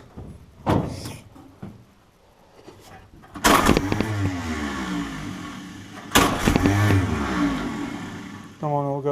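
A Ford GPW jeep engine turns over and fires in rough bursts, with sharp revs surging loud and close between quieter sputtering stretches, ending in a short rising rev.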